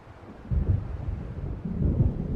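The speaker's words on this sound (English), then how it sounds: "It seems there's a storm coming." Low rolling rumble of distant thunder from an approaching storm in Alan Wake Remastered, swelling twice in deep heavy rolls over a dark lakeside scene, with no voices.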